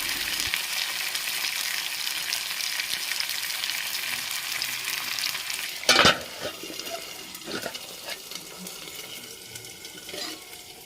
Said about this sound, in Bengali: আলুটা ভাজতে বসিয়ে দিচ্ছি